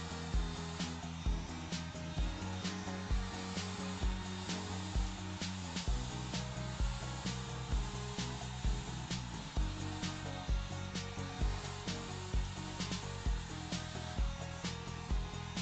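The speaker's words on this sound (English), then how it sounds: "you put the blow dryer behind the brush like this and you rock it out" A hair dryer blows hair dry against a round brush, a continuous airy whir with a periodic pulsing as the brush rocks back and forth, fairly quiet and without talk.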